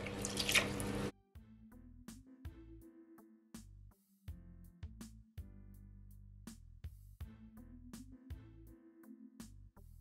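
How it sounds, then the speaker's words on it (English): Canned coconut milk poured into a pot on the stove, a short loud splash followed by a run of soft glugs and drips, close and quiet, with no talking. "So now what I'm gonna do, I'm gonna add my coconut milk."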